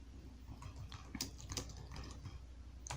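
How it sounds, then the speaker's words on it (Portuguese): Computer keyboard typing, soft and fairly quiet: an irregular series of light key clicks over a low background rumble, with no speech. "Vou pressionar a tecla Enter 2 vezes"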